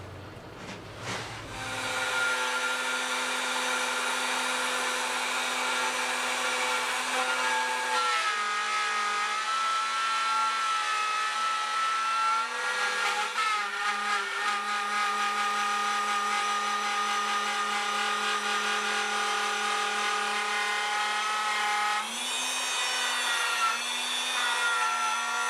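A power tool, likely a table saw, cuts miter slots into a wooden outfeed table in a sustained loud whine, with a steady motor hum and shifting blade pitch as the wood is fed through, and no talking.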